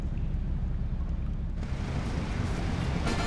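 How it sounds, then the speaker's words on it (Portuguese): Boat motor idling in the LEGO City Undercover video game, a low rumbling drone with watery wash and wind-like hiss, steady and fairly loud, with no voices. "Eu fico aqui e deixo o motor ligado."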